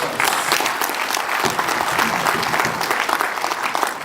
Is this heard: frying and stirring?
no